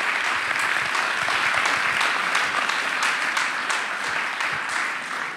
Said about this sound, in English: a very warm round of applause indeed